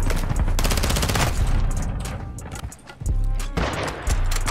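Rapid automatic gunfire in the video game Call of Duty Warzone 2.0, loud dense bursts of rattling shots with brief gaps and a short pause before firing resumes.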